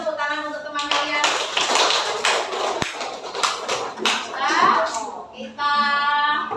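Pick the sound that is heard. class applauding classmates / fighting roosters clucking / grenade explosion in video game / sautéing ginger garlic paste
class applauding classmates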